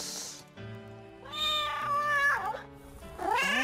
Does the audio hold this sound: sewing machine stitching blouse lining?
no